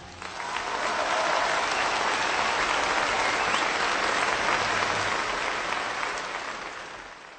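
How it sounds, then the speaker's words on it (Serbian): An audience bursts into sustained applause following a music performance, thick continuous clapping that swells in, holds loud and even for several seconds, then fades out. "Najpre ste čuli muziku, a zatim aplauz kao reakciju."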